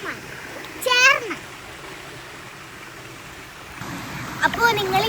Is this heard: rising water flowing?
yes